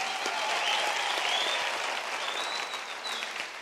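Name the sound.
applause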